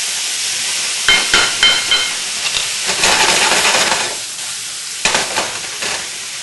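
Loud, steady sizzling of vegetables stir-frying with soy sauce in a hot pan, with scraping and tossing clatters as they are stirred; no voices.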